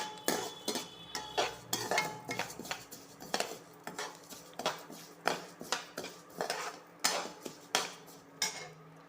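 Basmati rice being roasted and stirred in a pan, a series of close, rhythmic metallic scrapes and clinks from a spoon against the pan, fairly quiet with no talking.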